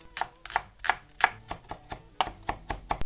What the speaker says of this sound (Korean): 오늘 저희는 루꼴라 안 넣고 대파 넣습니다. 요 정도만 넣어주는 걸로 해서 썰어 놓을게요.